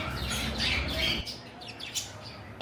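Pet birds in a shop selling conures, cockatiels, lovebirds, budgerigars, Java sparrows and doves: a dense chorus of harsh squawks and chirps that is loud at first, then thins a little, with scattered calls continuing.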